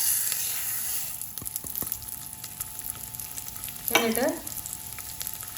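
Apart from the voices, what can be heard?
moong dal frying in ghee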